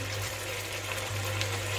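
Vegetable broth poured into a pan of cooking risotto makes a continuous close pouring and gurgling wash under a steady low hum.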